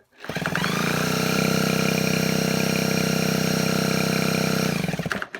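A Suzuki Lets 3 scooter engine, its carburetor just adjusted, catches and runs loud and close at a steady buzzing idle for about five seconds before cutting off.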